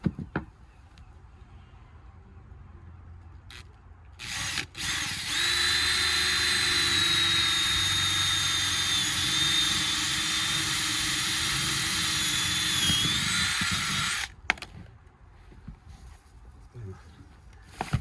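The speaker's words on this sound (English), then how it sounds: "Right, on with the drilling." A power drill whines steadily for about ten seconds at close range, its high-pitched motor drone starting and stopping abruptly, with quiet handling noises before and after.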